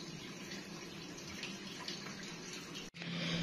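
An LG 16 kg fully automatic top-load washing machine drains its first water, giving a steady, close rushing flow that briefly cuts out and then resumes with a low hum.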